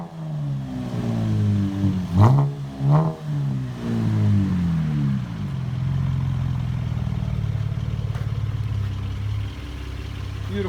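A 2012 Chevy Camaro V6 with a muffler delete gives two sharp, raspy revs close by, then settles into a steady, burbling idle.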